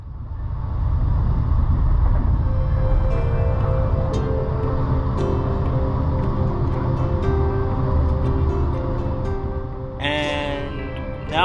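NSW Xplorer train running from Sydney toward Canberra: a steady, loud low rumble of the carriage on the track with faint tonal whines, continuous throughout, ending in a brief voice.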